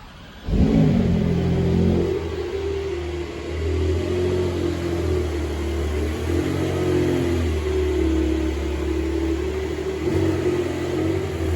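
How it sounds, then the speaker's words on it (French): A Porsche at a dealership showroom fires up with a sharp start burst, then settles into a steady, loud, deep idle rumble with slight rev swells, alone without talk. "la concession qui démarre la Porsche"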